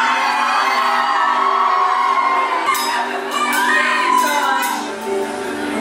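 A concert crowd on the opening day of a tour cheers and whoops loudly and steadily, with scattered shouts and yells rising above the sustained roar.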